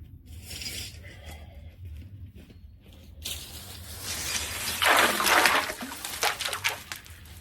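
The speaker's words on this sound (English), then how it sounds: "let's add some ice that I brought from the house" Ice cubes from a home freezer dumped into an outdoor cold plunge tub filled with hose water, a rattling splashing rush that swells mid-clip and then trails off with scattered clinks.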